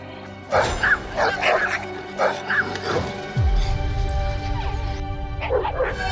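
An aggressive dog barks excitedly in a rapid series of loud, close yips and bow-wows, with a crash-like noise partway through and a steady background hum.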